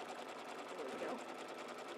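Sewing machine running a tack-down stitch around the edge of a quilted mug rug, a quiet, continuous rapid whirring hum with a voice talking over it.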